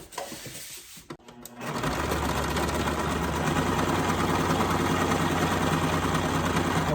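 Sewing machine running a quarter-inch seam on fabric for a primitive autumn doll, starting after a few handling clicks and then holding a steady, close, continuous motor whir with rapid stitching for several seconds, no talking.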